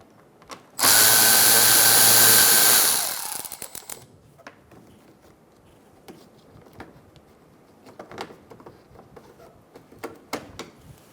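A powered 7mm socket driver spins out fender liner bolts on a Buick Encore: one loud, steady whir for about two seconds, winding down into scattered clicks and light tool handling.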